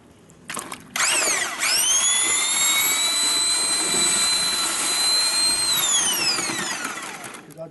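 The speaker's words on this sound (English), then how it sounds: "using this drill and this paddle." Electric drill fitted with a paddle mixer spinning sand and cement mortar, a sharp spin-up to a steady high whine held for several seconds before winding down, close and loud, with a few knocks at the start.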